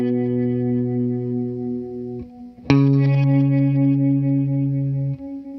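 Guitar through an Encounter ambient delay and reverb pedal set to reverse repeats holding an octave up: sustained, chorused tones stop, then swell back in after a short gap, with bright octave-up shimmer over the held note.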